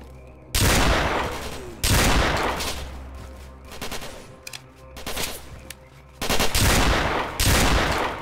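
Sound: gunfire in STALKER: Call of Pripyat video game

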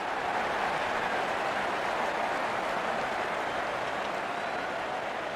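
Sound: crowd applauding a batsman's fifty at IPL cricket match

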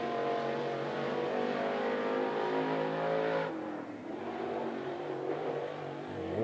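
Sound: late model race car on qualifying lap at 411 Motor Speedway

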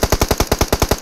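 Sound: gunfire in video game PUBG Mobile

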